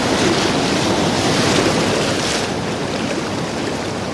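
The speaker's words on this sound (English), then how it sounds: "The waves come right in at you." Sea waves break and rush up a beach at Portgordon on the North East Scotland coast, a loud continuous surf roar with wind buffeting the microphone and no talk.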